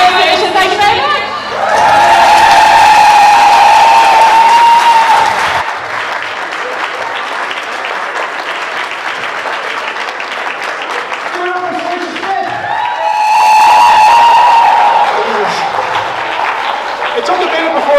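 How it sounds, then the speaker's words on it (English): A live comedy show audience at Naomh Barrog bursts into loud, full applause twice, with a long first ovation and a shorter second one. Speech fills the quieter stretch between them. "I love the nice thunderous applause we got there."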